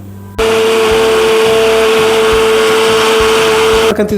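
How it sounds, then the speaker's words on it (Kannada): An electric mixer grinder starts abruptly and runs loudly at steady high speed while grinding a sambar spice paste of onion, fenugreek, coconut, tomato, tamarind and sambar powder for fish curry, then cuts off at the end. "ಸಾಂಬಾರು ಪುಡಿ ನೀಟಾಗಿ ರುಬ್ಕೊಂಡು ಒಗ್ಗರಣೆ ಹಾಕೊಳ್ಳೋದು"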